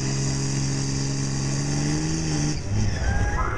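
At a county fair truck pull, a 1999 Dodge pulling truck roars loud and close with a heavy, steady engine drone. Near the end the pitch climbs and turns ragged as the load shifts.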